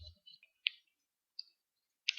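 Mouse clicks during a screencast tutorial in a web form builder: four or five sharp, isolated clicks spaced irregularly over near silence, close and fairly quiet.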